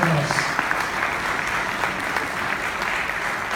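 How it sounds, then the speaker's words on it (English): A hall full of people claps steadily for the chairman's personal secretary during the chairman's speech at the 2016 Kerry Indev Esthell Golf Open. The dense, sustained applause carries at an even level for several seconds. "certainly deserves a round of applause"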